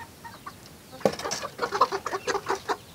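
Several chicks and chickens peep and cluck close by in a quick, irregular chatter, with a sharp thump early on.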